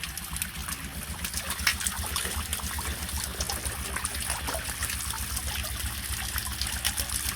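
A waterfall pours steadily, a dense, continuous rush and trickle of falling water close by with no one speaking.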